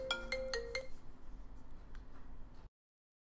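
A phone ringtone from an incoming call sounds during a gaming session, a quick run of four bright electronic notes near the start, followed by quieter background noise before it cuts off.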